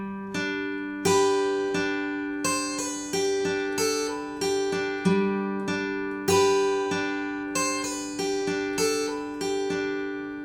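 Acoustic guitar plays a riff, with clear plucked notes ringing and decaying in a steady, repeating melodic pattern, solo and close.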